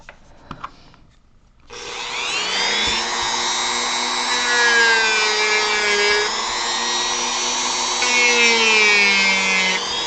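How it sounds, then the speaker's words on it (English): A rotary tool with a worn sanding pad starts with a whir and grinds steadily and loudly against a carved model foot, its pitch wavering slightly as the pressure shifts, after a few quiet taps. "I think it's time I replace the bit on this, because this sanding pad is not getting the job done anymore"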